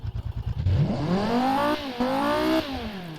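A 1000HP car engine in the Automation/BeamNG video game: a few idle pulses, then a rising rev that climbs, dips briefly and climbs again before dropping off, loud and close with no talk.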